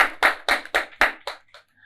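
Audience applause at a Saturday entertainment show: about six sharp, evenly spaced claps ring out close and clear, then a couple of quieter ones trail off into silence.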